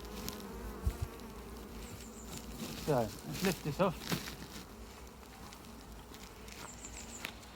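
Honeybees buzz in a steady drone around an open beehive being inspected with a hive tool and smoker nearby, as someone talks briefly over the hum.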